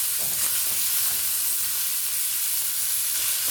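Dr Pepper sausages fry in a stovetop pan, giving a constant close crackling sizzle with bursts of spitting fat and a hiss of steam, steady throughout with no talking.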